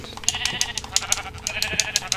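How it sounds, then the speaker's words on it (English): Sheep bleat repeatedly in a video game, a quick run of short, fairly loud bleats spaced across the moment with a busy game soundscape underneath. "Sheep."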